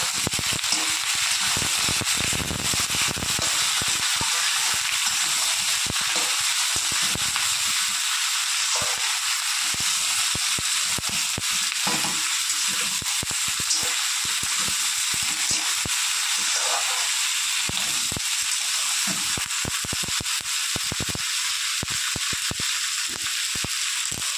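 Potato, eggplant and beans frying in hot oil with browned garlic, a loud, steady, crackling sizzle throughout with stirring pulses and no talking.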